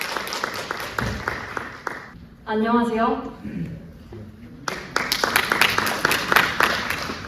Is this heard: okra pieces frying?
no